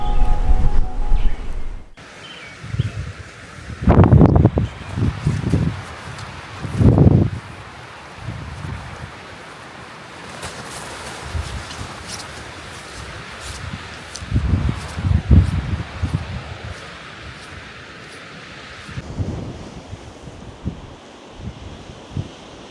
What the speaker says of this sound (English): It's windy. It's very, very windy.